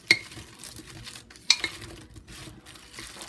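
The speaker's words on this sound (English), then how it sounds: "give it a quick stir" A spoon stirs yams with cornstarch in a slow cooker crock, making two sharp clinks against the pot and soft scraping between them, close and fairly quiet, with no talk.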